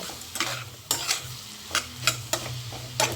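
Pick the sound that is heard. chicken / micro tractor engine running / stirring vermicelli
stirring vermicelli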